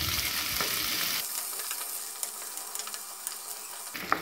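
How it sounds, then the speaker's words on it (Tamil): Onions and green chillies frying in ghee for veg pulao, starting as a loud dense sizzle that suddenly thins to a quieter crackle with scattered spoon clicks, then swells again at the very end; no one talks. "ரெண்டு பச்சை மிளகாய், நீளமாக கட் பண்ண வெங்காயம் இதோட சேர்த்திக்கலாம். வெங்காயம் நல்லா வதங்கணும்."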